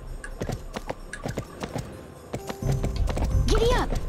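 Horse hooves clip-clopping in Barbie Horse Adventures with a steady trotting rhythm, followed by a brief whinny near the end while a person talks over it.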